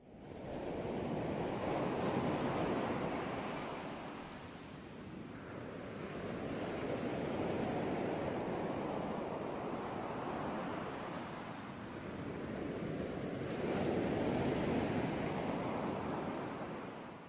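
Ocean waves breaking on a shore in steady successive swells, broad rushing surf rising and falling about three times, with some wind noise and no speech.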